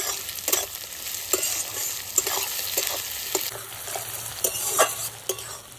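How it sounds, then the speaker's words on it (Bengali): Onions frying with salt in a pan, a steady close sizzle broken by repeated scraping stirs of a spoon against the pan. "পেঁয়াজটা ভালো করে ভাজা হয়ে গেছে"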